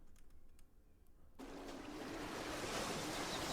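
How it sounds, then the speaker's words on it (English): Ocean waves around a tiny island in a virtual reality scene, a steady broadband wash of surf that starts abruptly and continues evenly and loud, with faint quieter ambience before it begins. "You can hear the waves."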